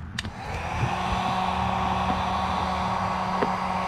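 A heat gun blowing hot air over tint film on a Lexus GS400 headlight, a steady close whirring hiss with a faint motor hum, running continuously after a brief start.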